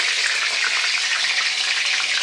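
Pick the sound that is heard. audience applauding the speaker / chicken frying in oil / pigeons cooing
chicken frying in oil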